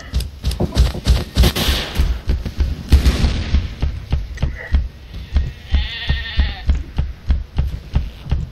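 Goats bleat repeatedly in the video game Dino D-Day, several wavering bleats heard over a constant rhythmic thumping of game sound, loud and close.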